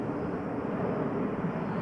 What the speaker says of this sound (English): That plane sure feels low.